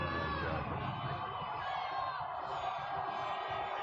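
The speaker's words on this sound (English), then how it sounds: "Listen to the crowd." Along Broad Street in Philadelphia, a dense parade crowd celebrating the Eagles' Super Bowl victory roars and whoops continuously, a distant wall of cheering with scattered yells and voices blended in.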